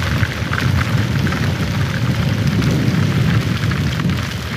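Rain falling during a long-weekend Independence Day holiday, a steady loud broadband hiss and patter with a low rumble beneath, continuous throughout with no voices.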